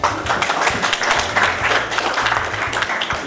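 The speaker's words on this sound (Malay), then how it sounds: "Tepuk tangan sikit." An audience at a formal reception for a visiting mayor breaks into dense, sustained clapping, loud and close, lasting the whole stretch without letup.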